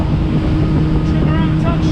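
An Axopar 37 motorboat engine roars at near full revs around 41 knots, loud and constant, with wind and rushing water noise around it.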